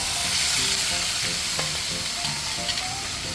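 Shrimp hit a hot pan of spiced oil and curry aromatics, a loud, steady sizzle and fry crackle with light stirring clinks, close and unbroken with no talking.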